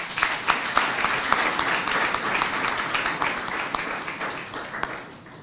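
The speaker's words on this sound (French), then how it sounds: "Si on peut l'applaudir, s'il vous plaît" An audience applauds at an African integration conference in Kinshasa, with steady moderate clapping sustained throughout, a little distant, and faint voices underneath.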